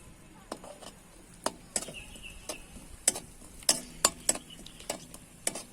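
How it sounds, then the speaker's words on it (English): A masala paste is stirred while chillies fry in a pan for Bellary-style vagarni mirchi, giving irregular sharp scraping clicks of the utensil over a soft, steady sizzle. "Keep stirring it."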